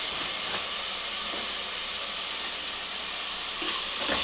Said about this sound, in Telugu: ఇవన్నీ వేసి మంచిగా ఫ్రై చేసుకోవాలి